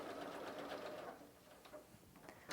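A Pfaff Ambition 620 sewing machine runs a dense satin stitch for appliqué, a close, steady motor hum with rapid needle clatter that eases slightly toward the end.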